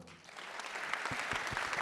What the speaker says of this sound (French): j'aimerais qu'on applaudisse tous les gens du département